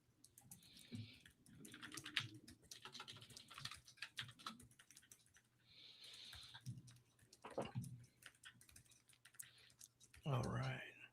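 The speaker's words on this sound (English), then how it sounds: "let me just kind of start typing here." Keystrokes on a computer keyboard come in short bursts and scattered taps, fairly faint, while a person talks over much of the typing.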